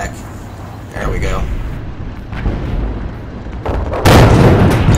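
A gun fires in a tank or artillery video game, heavy booming shots and a rumbling blast rising near the end, mixed with engine noise as someone talks over it.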